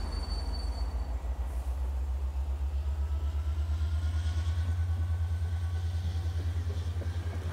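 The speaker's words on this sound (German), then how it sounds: "Das ist gerade der Zug, der da wegfährt." A departing train in the video game Euro Truck Simulator 2 gives a steady, loud low rumble with a regular rhythmic clatter that holds at an even level throughout, with no talking over it.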